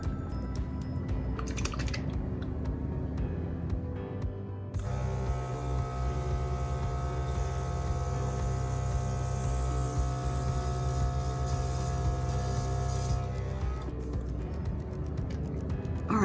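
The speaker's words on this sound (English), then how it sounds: "I'm sorry about the loud sound of this airbrush machine" A makeup airbrush machine runs with a steady, loud mechanical hum and hiss that holds for most of the stretch, with a few quieter gaps and light clicking near the start.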